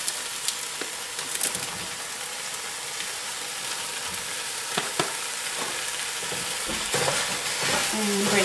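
Ground beef and sausage brown in a big pot, giving a dense, continuous hissing sizzle close by, broken by occasional scrapes and taps as a utensil breaks up the meat.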